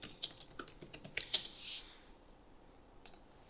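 Someone types on a computer keyboard while editing website text. A quick, quiet run of close key clicks lasts about a second and a half, then pauses, and one more tap follows.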